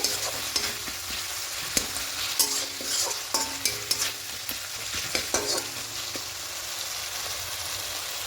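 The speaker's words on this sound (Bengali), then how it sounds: "হালকা একটু কষিয়ে নেব শুধু আদা রসুনের কাঁচা গন্ধটা চলে যাওয়া পর্যন্ত" Ginger garlic paste sautéing in a pan, a steady crackling sizzle broken by quick scraping stir strokes, close and unaccompanied by voices.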